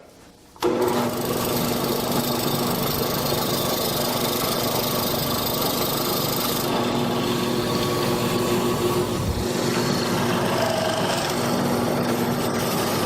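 Holzmann STM4SB mortising machine cutting a mortise in wood, starting abruptly after a quiet moment and then running as a loud, continuous motor drone with grinding chisel noise.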